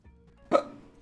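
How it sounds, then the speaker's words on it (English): A single sharp hiccup from a person playing Spelunky pops out close and clear against near silence. "Why do I always get hiccups when I'm here?"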